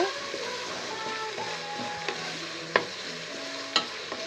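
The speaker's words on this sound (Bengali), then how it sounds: "এখন আমি আদা আর রসুনটা একটু ভেজে নেব" Ginger and garlic fry in a pan after browned onions for a radish and broiler chicken curry, a soft continuous sizzle broken by a few sharp spatula scrapes and knocks, no voices.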